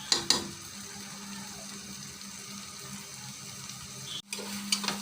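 Fish roe fries dry in a pan while being stirred constantly, giving a steady, soft hiss and sizzle with light scraping. A brief spoken remark comes near the start, and a short pause in the sound falls near the end.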